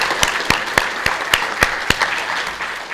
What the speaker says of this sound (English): I just wanted to get a big round of applause for our moderator